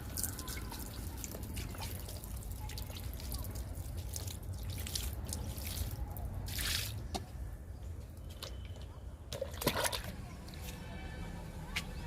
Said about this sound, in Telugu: ఇలా మొక్కంతా తడిసేటట్టు చల్లుకోవాలి